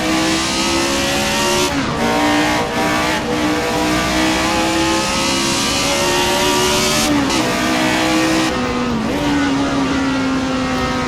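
A 1976 McLaren M23 race car in Assetto Corsa, its engine revving hard and continuously with rising and falling pitch through gear changes, loud and close throughout.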